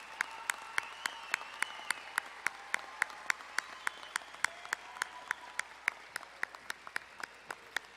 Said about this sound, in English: I'd like to ask all the graduates to stand so that we can applaud all of you.